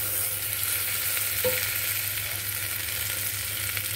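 Ginger-garlic paste frying in a pan for coconut basmati rice, a soft steady sizzle with a faint hiss and one brief clink of a utensil.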